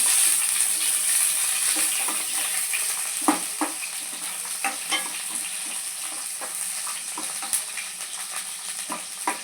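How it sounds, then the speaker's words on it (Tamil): Onions sauté in hot oil in a kadai, making a steady close sizzle. Irregular taps and scrapes from a spatula sound against the pan throughout. "வெங்காயம் நல்லா வதங்கட்டும்."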